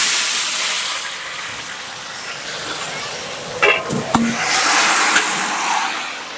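Cut potatoes dropping into hot oil with dry red chillies, bay leaf and cumin in a village kitchen, giving a steady loud sizzle and hiss with a brief clatter partway through.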